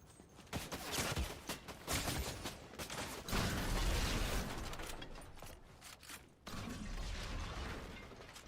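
Dense Fortnite battle noise fills the space, with shots, blasts and clattering mechanisms layered into a loud, continuous wash during a competitive FNCS grand finals match.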